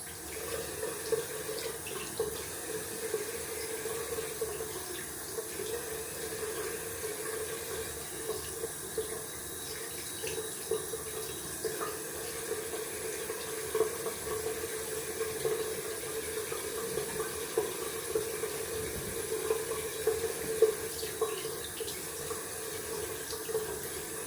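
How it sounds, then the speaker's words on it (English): Cold tap water runs steadily into a sink for rinsing after a wet shave, a continuous close hiss and splash at even level with small fluctuations and no talk. "Gonna rinse off with cold water."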